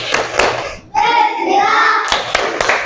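Schoolchildren in a classroom clap together in a short rhythmic spirit clap, sharp hand claps at the start and end around a stretch of loud group chanting voices.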